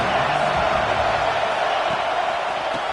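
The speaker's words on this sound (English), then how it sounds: "This crowd ready to make its presence known." A football stadium crowd roars in a steady, dense wash of cheering and noise, loud and continuous throughout with no clear speech.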